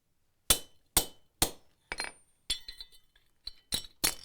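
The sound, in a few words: punch shearing a slug out of wrought iron on bolster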